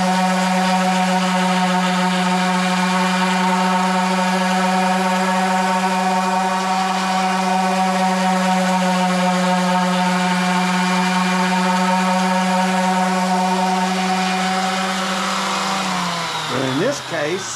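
A power sander runs inside a wooden corner, giving a loud, steady whining hum that holds for most of the stretch before winding down and clattering briefly near the end.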